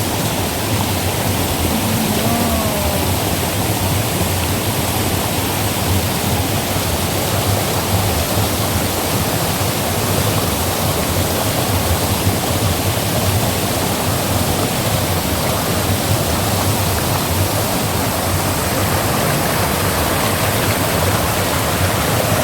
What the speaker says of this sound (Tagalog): Ayan, tignan nyo yung falls.